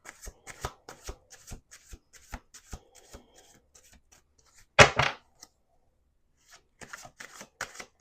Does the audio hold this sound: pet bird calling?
no